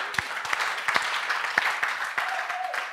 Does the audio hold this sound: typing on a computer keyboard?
no